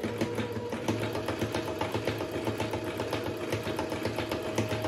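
A Brother Super Ace SE 947 sewing machine stitches continuously at an even pace, its rapid needle strokes forming a close, steady mechanical patter.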